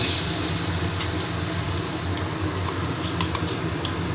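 Ground soaked split-pea paste frying in hot oil, a dense steady sizzle and crackle with scattered pops, close and even throughout.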